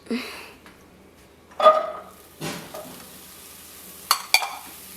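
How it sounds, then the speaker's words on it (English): Onions and carrots hitting a very hot pan, with sharp bursts of sizzling, a couple of stirring scrapes and two quick metallic clanks near the end, loud and close. "once we have our pan ripping hot, we want to add our onions and carrots"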